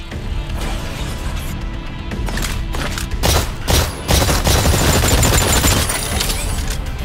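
Sustained volleys of gunfire aimed at distant targets on an Exoprimal firing range, with dense overlapping shots and heavy impacts that grow louder and more intense toward the middle and stay steady to the end.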